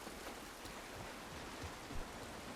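Steady rain falls in the video game The Last of Us Part I, an even hiss of heavy rainfall with no talk over it.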